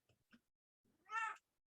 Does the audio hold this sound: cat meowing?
yes